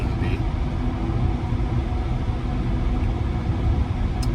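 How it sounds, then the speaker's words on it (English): Interior AC vent fans of a Tesla Model Y running hard on a hot day, a steady loud broadband whoosh filling the cabin throughout with no breaks. "You can hear the fans in the car ripping."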